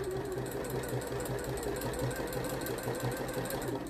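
Sewing machine fitted with a walking foot zigzagging along a boiled wool seam, running steadily throughout with an even, rhythmic thumping chatter, close and continuous with no talk.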